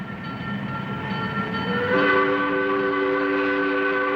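A coal train in Appalachia rolls past with a steady, loud rumble and sustained horn-like tones swelling midway, no voices over it.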